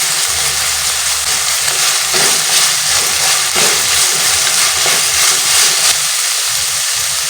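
Green peas and crushed garlic frying in oil for vegetable pulao, a steady broadband sizzle with occasional stirring bumps throughout, no voices.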